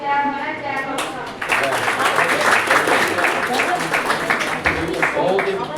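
An audience at a speech competition for Dr. Bhimrao Ambedkar's birth anniversary breaks into sustained, dense applause that starts after a voice and carries on loudly for several seconds, with speech heard over it.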